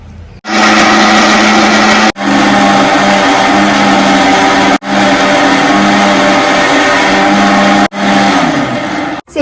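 A mixer grinder grinds fried ingredients into a paste for a pulimunchi fish curry. The motor whirs loud and close in four long bursts, with brief stops between them.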